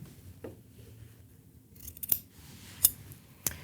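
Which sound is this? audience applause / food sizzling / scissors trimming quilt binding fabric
scissors trimming quilt binding fabric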